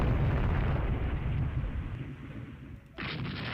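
A torpedo strikes a ship in the naval strategy game Rule the Waves 3, a loud, rumbling explosion that fills the clip and slowly fades before a sharp new burst near the end.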